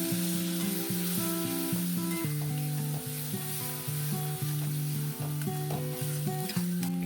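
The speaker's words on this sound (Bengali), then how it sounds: "তারপর দিয়ে দেব হলুদ গুঁড়ো আর কাশ্মীরি লঙ্কার গুঁড়ো। এটাও একটু কষিয়ে নেব।" Masala with turmeric and Kashmiri chili powder fries in a pan for dhaba-style bhindi masala, a low constant sizzle running under prominent melodic background music, with no talking.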